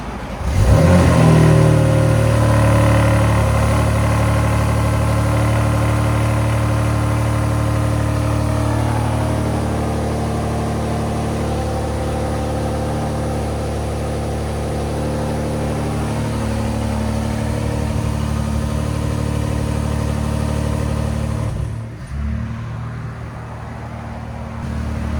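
A 2024 Ford Ranger Raptor with a 3.0L twin-turbo V6 and loop-pipe exhaust starts with a brief rev, then settles into a steady, deep, loud idle close by, with a small dip near the end.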